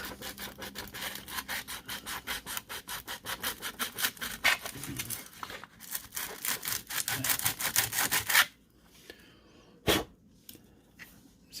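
Close, steady back-and-forth sanding strokes on a model boxcar being weathered, rapid and rhythmic for about eight seconds, then a pause and one last short scrape.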